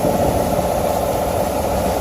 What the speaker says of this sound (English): doesn't make much engine noise at all